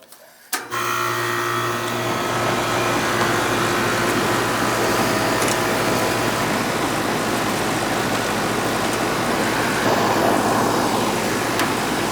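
A Goodman outdoor air conditioning unit kicks on after a short quiet moment, then runs steadily with a loud, continuous motor and fan hum and a droning tonal whine, close by and with no talking.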